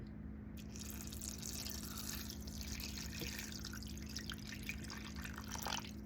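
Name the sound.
water being poured into a container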